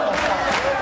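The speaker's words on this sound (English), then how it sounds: "Listen to the crowd." Wrestling crowd at a 2005 TNA triple-threat match between AJ Styles, Samoa Joe and Christopher Daniels, a dense, steady roar of cheering and shouting filling the arena without a break.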